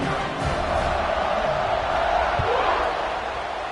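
A football stadium crowd at a Tennessee–Florida college game roars steadily during a kickoff, a broad continuous cheer filling the whole moment without clear individual voices.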